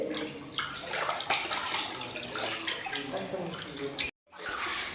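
Steady splashing and swishing of water being stirred with camphor in a container for house cleaning, continuous and close, with a brief drop-out near the end.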